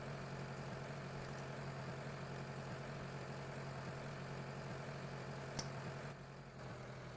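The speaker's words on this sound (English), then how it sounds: "So I'm just going to move the tractors over into place," Tractor engines idle steadily in Farming Simulator 2013, a continuous low mechanical drone held at a constant level throughout, with one brief click near the end.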